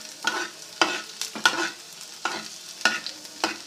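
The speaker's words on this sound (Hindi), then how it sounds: "ये हमने लहसुन डाल दिया है, हल्का सा फ्राई कर लेंगे इसको।" Garlic frying in a pan for samosa filling, stirred in a steady rhythm of about six distinct scraping strokes over a soft sizzle, close and clear with no talk.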